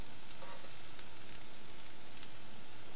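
Soy sauce poured into curry in a hot pan, giving a dense, steady sizzle and crackle throughout, close and even, with a few brief spitting bursts and no voices.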